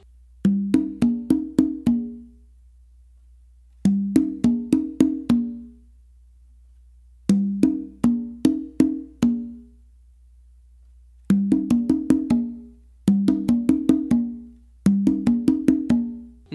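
Conga guaguanco tumbao variation repeated across several bars, rapid clusters of ringing drum strokes separated by short pauses, close and loud with no voices.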